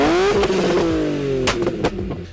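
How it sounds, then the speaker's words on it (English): A car engine revs hard in an empty mall parking lot, harmonics rising and falling, with sharp cracking pops and bangs from exhaust backfire flames punctuating the revving near the end. "it's just me revving it in an abandoned mall parking lot to shoot fire out the exhaust"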